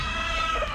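Chickens being prepared for shipment in the early morning, clucking softly in a short, close burst over a steady background hum.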